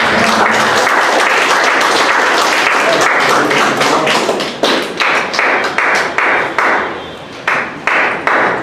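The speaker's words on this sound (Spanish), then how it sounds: "Un fuerte aplauso. Aplausos al Señor." Church congregation applauding loudly, a dense wash of clapping that thins after a few seconds into scattered, separate claps and taps from a smaller group.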